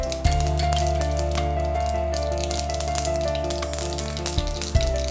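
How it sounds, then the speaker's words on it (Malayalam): Mustard seeds crackle and splutter in hot oil at the start of a tempering for ragi kozhukatta, with a steady sizzle broken by sharp pops and clinks over a constant background hum. "കടുക് നല്ല പൊട്ടിപ്പൊട്ടി."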